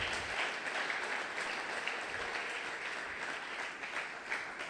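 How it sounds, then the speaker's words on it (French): A church congregation at a Sunday worship service claps loudly and continuously, dense applause filling the room with no voices above it. "Acclamons très fort pour la gloire de Jésus."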